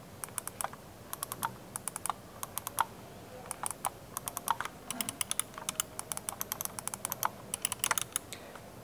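Side buttons of a Logitech G Pro X Superlight mouse clicked repeatedly up close, crisp light ticks in irregular clusters throughout, some single and some in fast doubles, with no talk.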